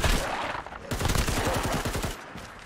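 AK rifle firing in Fallout 4 with a photo-realistic mod: a rapid string of about a dozen close, loud shots in an even automatic rhythm, set over steady in-game background noise.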